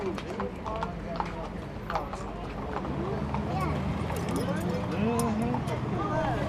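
Rhythmic clip-clop of wagon-train horse hooves on pavement in Alabama with people chattering loudly around, a busy outdoor bustle.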